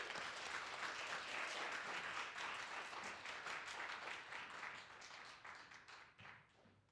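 An audience applauds in a reading hall as poet Justin Phillip Reed is welcomed, dense steady clapping that gradually fades out.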